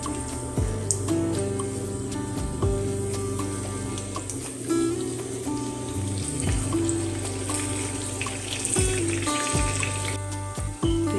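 Calamari sizzles as it fries in a pan, a steady crackling hiss with small pops running beneath louder background music.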